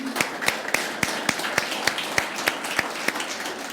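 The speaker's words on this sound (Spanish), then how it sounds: "Le damos un fuerte aplauso al Señor" Steady rhythmic clapping fills a church at the close of a sermon, sharp, evenly spaced claps about three per second, loud and close over a soft background murmur.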